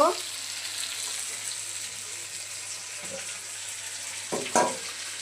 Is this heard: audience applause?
no